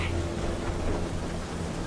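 Rain drums steadily on a tent in the film Parasite, a dense close patter with a low rumbling undertone, brief and continuous.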